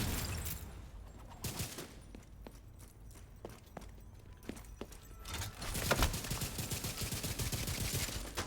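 Rapid gunfire from the Merciless weapon in The Division 2, with sharp repeated shots scattered through the scene and a dense, louder volley near the end over steady game ambience.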